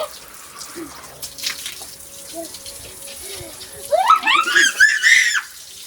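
Water gushes and sprays from a pipe outdoors during a Holi celebration, building into a loud rushing hiss in the second half while children's voices squeal and shout over it.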